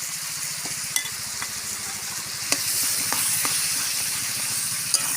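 Pumpkin, pointed gourd and potato are sautéed with chilli and cumin paste and a splash of water, making a continuous hissing sizzle broken by a few sharp spatula clicks.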